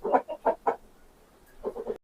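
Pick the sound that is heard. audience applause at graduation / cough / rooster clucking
rooster clucking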